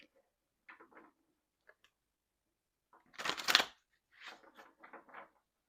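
Tarot cards are shuffled by hand in short riffling bursts, with one louder, longer shuffle in the middle and softer taps and flicks around it.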